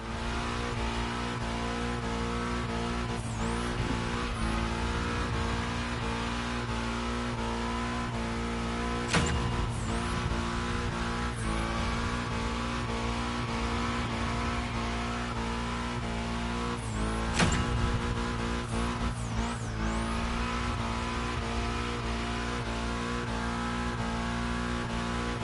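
A car engine in The Crew Motorfest revs through a bend, a loud sustained drone rising and falling with throttle changes, punctuated by brief sharp tire squeals and occasional bumps, no voices.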